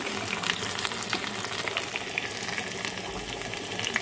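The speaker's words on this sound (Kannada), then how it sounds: "ಒಂದು ಪ್ಯಾನ್ ತೊಗೊಂಡು ಆಯಿಲ್ ಇಟ್ಕೊಂಡಿದ್ದೀನಿ, ಅದಕ್ಕೆ ಸಾಸಿವೆ ಆ್ಯಡ್ ಮಾಡಿ ಬೆಳ್ಳುಳ್ಳಿ ಆ್ಯಡ್ ಮಾಡ್ತೀವಿ." Mustard seeds and garlic fry in hot oil in a pan as tempering for bamboo shoot sambar, giving a steady, close crackling sizzle with no voices.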